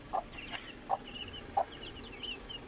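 Chickens clucking nearby in a farm setting, three or four soft, short clucks spaced apart with faint bird chatter in the background and no talking.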